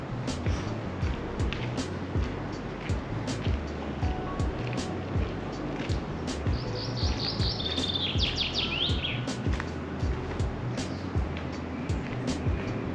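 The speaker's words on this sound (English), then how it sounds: "You can hear the birds." Birds chirp and trill in scattered bursts over a steady outdoor rumble of wind or distant water in Ljubljana, Slovenia, with one brief rapid warbling phrase.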